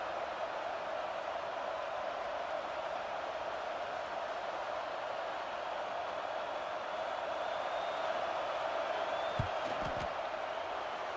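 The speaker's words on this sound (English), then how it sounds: "This crowd trying to do its part to get inside the kicker's head." Stadium crowd in a college football video game, Kent State at Texas Tech, a steady wash of distant crowd roar and murmur held at an even level during a field goal attempt, with a few brief thumps near the end.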